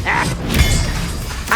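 Expelliarmus disarming spell cast in the Hogwarts Legacy video game: a brief burst of whooshing impact with a thud, followed by a sustained bright shimmering hiss and a second flash near the end, loud and close.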